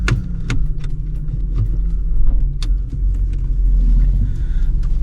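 A 1996 Ford Mondeo Ghia V6 24v estate with about 210,000 km running close by, a steady low engine rumble with a few faint ticks and knocks over it.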